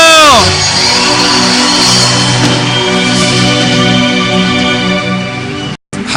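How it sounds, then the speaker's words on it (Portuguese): A church congregation at a Feast of Tabernacles gathering lets out a loud, sustained joyful shout and cheer, many voices whooping together for several seconds before cutting off abruptly. "Dê a Ele um grito de júbilo."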